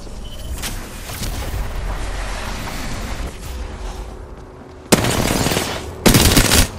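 Automatic gunfire in the shooter game Apex Legends, with a steady rattle of shots giving way to two loud, dense bursts near the end.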